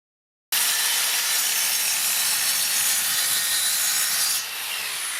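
A Parkside PZKS 15 miter saw slices through a wooden board in one loud, steady cut of broadband whine and rasp, starting abruptly and easing slightly near the end as the blade finishes, with no talk.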